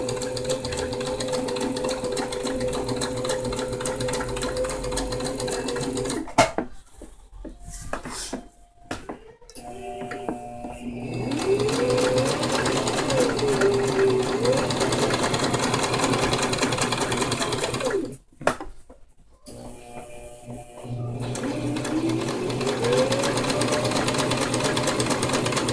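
A sewing machine stitches a ruffle for a maxi skirt, whirring steadily in long runs broken by brief pauses, close and fairly loud, with faint rattling of the fabric between bursts.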